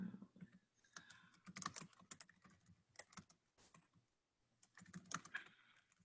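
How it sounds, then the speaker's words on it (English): Typing on a computer keyboard in an office setting, quick irregular bursts of clicking keys with short pauses, close by but soft, with no talking. "Just typing all this stuff in."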